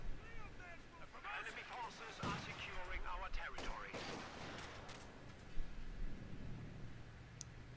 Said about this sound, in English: He thought it was a rifle grenade.